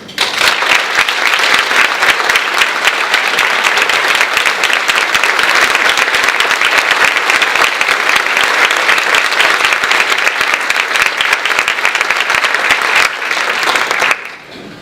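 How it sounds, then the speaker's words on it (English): An audience at a regional prevention summit applauds first responders, a loud sustained round of clapping from a large crowd that holds steady for about fourteen seconds, then drops off abruptly. "I would like to ask them to stand for a round of applause to thank them for their dedication and their service."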